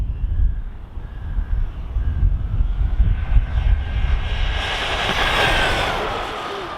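Losi Tenacity DB Pro RC car with a 15T pinion on a 3S battery doing an outdoor speed run, a rising electric motor whine and tire rush building louder as it nears, partly masked by heavy wind noise.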